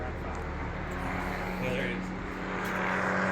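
Low, steady engine roar of a low-flying helicopter passing overhead, rising slightly partway through, with faint voices in the background.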